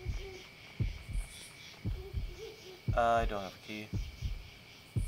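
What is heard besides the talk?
heartbeat in the video game Yomawari: Night Alone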